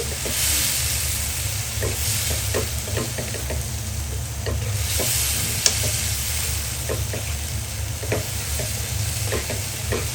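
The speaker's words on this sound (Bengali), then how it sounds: "এই পর্যায়ে দিয়ে দিব মাংসের কিমা" Minced meat fries in a pan for pasta, a loud continuous sizzle and hiss close by, with frequent scraping ticks from stirring throughout.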